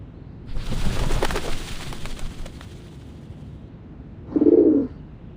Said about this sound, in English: The doves of the Whitestone House are here.